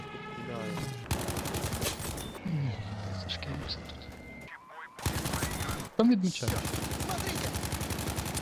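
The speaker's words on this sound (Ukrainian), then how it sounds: "Хтось по нам, по нам дуже жорстко стріляє." Bursts of rapid, heavy gunfire from the video game Battlefield 5 crack in dense volleys, stopping and starting, with someone speaking briefly between the shots.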